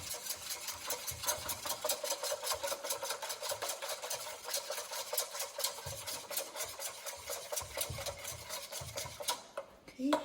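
Barbacoa mixture stirred in a pot, giving a steady run of close scraping, rubbing strokes with a faint metallic rasp at a busy rhythm. No voice is heard over it.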